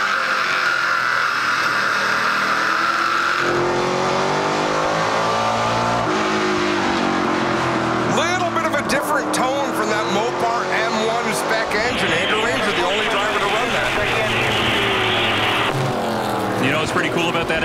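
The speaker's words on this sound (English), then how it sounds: "That engine? Yeah, it's a Hemi." NASCAR Pinty's Series stock cars with Hemi engines racing in the 2017 CRS Express 300, loud engines roaring and revving as they sweep past, pitch rising and falling, with a commentator talking over the track noise.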